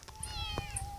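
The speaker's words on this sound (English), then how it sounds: "That's their other cat." A house cat gives a single drawn-out meow, fairly close and moderately quiet, in a home with a new kitten.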